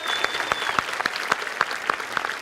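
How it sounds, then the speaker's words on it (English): Crowd at a high school graduation applauds athletic state champions, a sustained round of clapping with a few sharp, distinct claps standing out near the front of the room. "Let's give them a round of applause."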